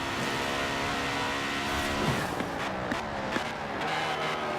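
Audi RS4 Avant engine in Forza Horizon 4 droning steadily at high revs, with a rising and falling tone through the whole stretch, loud and close, with brief tire noise midway.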